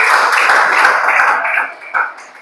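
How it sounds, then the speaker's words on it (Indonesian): Classmates applaud a student named Rifki, a dense burst of many hands clapping at close range that fades after about two seconds, with a final short flurry. "tepuk tangan untuk Rifki."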